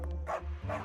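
Cartoon dogs give short yipping barks, two quick bursts at moderate volume with a faint steady hum beneath.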